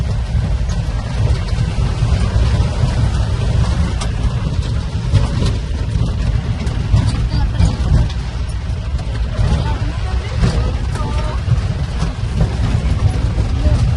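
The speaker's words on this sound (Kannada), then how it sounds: "ಈ ಮಳೆನ ನೋಡಿ" Rain pours at Mugilpete near Madikeri as a dense, steady broadband hiss with a low rumble beneath it, continuous and even throughout, with no voices.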